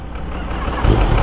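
A two-stroke scooter engine runs close by, its buzzy note swelling louder near the end as it picks up revs.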